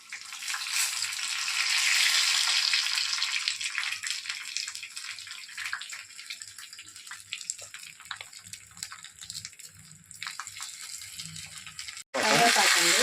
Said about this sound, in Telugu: నీళ్ళు తాలింపు వేస్తే కమ్మ వాసన